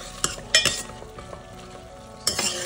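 Boiled potatoes are stirred into cooked bottle gourd and tomato in a pan, with a few clinking scrapes of a spoon over a soft, steady sizzle.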